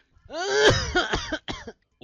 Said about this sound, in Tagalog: Ubo pa.